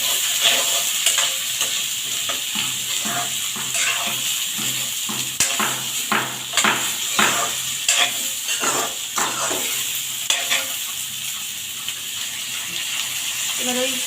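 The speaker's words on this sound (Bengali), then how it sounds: "এবার দিয়ে দিলাম পেঁয়াজ কুচা" Chopped onions fry in a pan while being stirred, giving a steady sizzle broken by repeated scraping strokes from the spoon, close and fairly loud, with a voice talking at times over the cooking.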